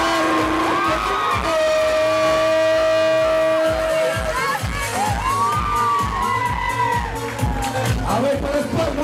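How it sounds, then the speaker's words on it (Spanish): Crowd at a quinceañera celebration cheering and whooping over loud music, with shouts and a lively party atmosphere continuing throughout. "we're going to give a nice round of applause for our champion, Ivan, coming in with our beautiful birthday"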